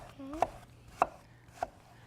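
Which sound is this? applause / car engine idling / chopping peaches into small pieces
chopping peaches into small pieces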